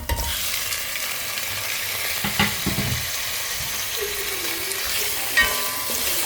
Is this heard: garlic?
yes